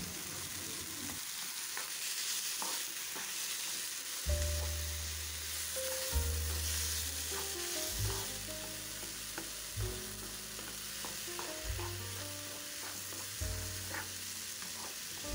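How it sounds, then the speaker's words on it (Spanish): Garlic, onion and tomato sauté in a large frying pan, a continuous close sizzle with frequent scraping and clinking strokes as the mixture is stirred around, the stirring heavier and more rhythmic in the second half. "Y vamos a sofreír siempre removiendo por unos 3 a 4 minutos más aproximadamente"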